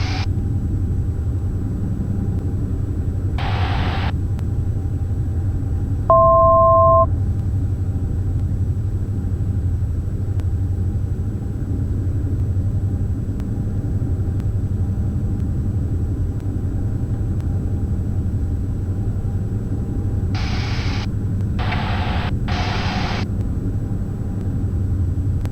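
Diamond twin-engine aircraft on landing approach into London Heathrow airspace, its steady droning engine rumble filling the cabin throughout, with a few short radio blips and tones breaking in now and then.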